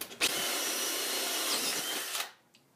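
A Milwaukee FUEL brushless cordless drill whirs loudly and steadily as it bores a hole through material for about two seconds, then winds down and stops.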